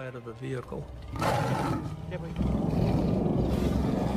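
A young male lion roars in the wild, a loud, rough, rumbling roar that swells and sustains over a low engine-like drone, with people speaking before it.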